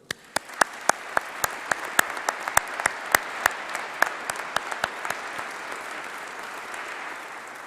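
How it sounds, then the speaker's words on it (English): An audience in a great hall at a university graduation ceremony gives a round of applause, a steady wash of many hands with individual sharp claps standing out nearby, fairly soft and even throughout. "Let's give them all a round of applause."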